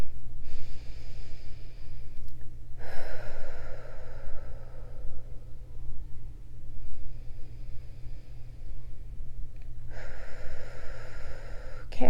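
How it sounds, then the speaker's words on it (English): Slow, deep breaths during a guided heart-centred meditation: a few long, airy inhales and exhales, close and steady, separated by quiet pauses over a low background hum. "take a couple deep breaths."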